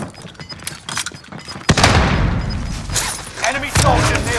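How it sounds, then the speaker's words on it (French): Call of Duty: Warzone firefight with a frag grenade thrown and exploding: a sudden loud burst opens into dense, sustained gunfire and booming blasts, with rapid shots continuing to the end and voices heard faintly in the mix. "Sending frag."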